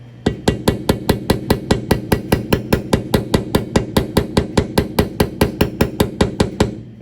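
A small round head hammer taps a hood saver on a Chevrolet C10 squarebody truck, about two dozen evenly spaced sharp metallic strikes in a fast steady rhythm, close and loud with no talking.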